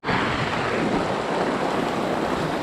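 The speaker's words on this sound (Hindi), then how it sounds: "अभी बहुत तेज़ बारिश शुरू हो गई है।" Heavy rain pours down at a forest campsite in a jungle reserve, a dense, steady hiss that starts abruptly and holds loud and unbroken throughout, with no voices.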